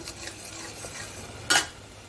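Chili powder cooks in oil for Andhra-style mutton paya, with a low steady sizzle and soft stirring scrapes, then one sharp, brief scrape of a spoon against the pan.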